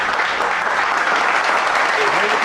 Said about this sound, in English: Let me clap for him.